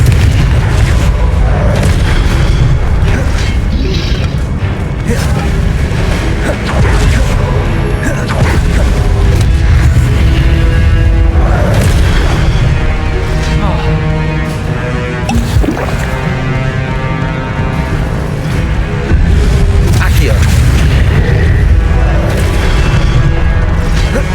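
Explosive Confringo spell blasts in the Hogwarts Legacy video game, with heavy booming impacts and rumbling low-end thuds layered over continuous dense game noise, loud and sustained with repeated bursts.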